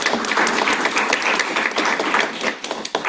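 An audience claps at a guide dog graduation ceremony in Yorktown Heights, New York, a loud, dense burst of applause that thins into a few scattered claps at the end.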